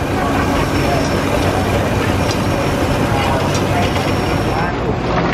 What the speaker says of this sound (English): Just hearing the sound of all this working machinery.